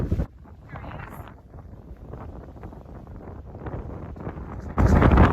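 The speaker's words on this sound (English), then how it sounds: "the wind's coming from the south" Steady wind buffets the microphone while sailing offshore in Indonesia, a continuous low rushing roar that swells sharply louder near the end, with faint boat and water noise underneath.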